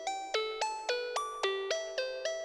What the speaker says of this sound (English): The odd overtones make it sound hollow, bell-like.